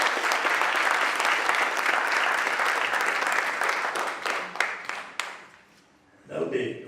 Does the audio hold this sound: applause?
yes